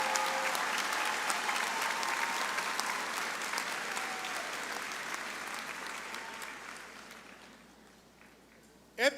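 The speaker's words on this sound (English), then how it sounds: "Let's give a big round of applause to Kamori Dela Grantes and her family for a job well done" A crowd applauds at a high school graduation ceremony with loud, sustained clapping from many hands that slowly fades and dies away near the end.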